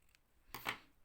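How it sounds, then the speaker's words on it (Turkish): Scissors snip through silk ribbon while making needle-lace trim, giving a quiet crisp cut of two quick overlapping strokes in an otherwise hushed room. "Bunu şöyle makasımla kesiyorum"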